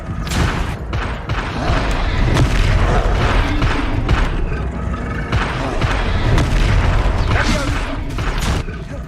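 Confringo spell explosions in Hogwarts Legacy: repeated booming bursts over a dense, continuous layer of combat noise, loud and close, with occasional voices mixed in.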